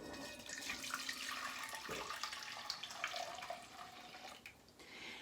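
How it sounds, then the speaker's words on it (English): Elderberry juice is poured back into a pot, a continuous splashing, trickling stream of liquid that rises and falls in intensity over several seconds, fairly faint and close. "can pour the juice right back into that pot"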